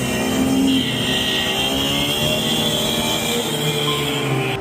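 A motorcycle engine revs hard and holds a loud, sustained whine while the rider pops a wheelie, the pitch climbing and wavering slightly before easing near the end.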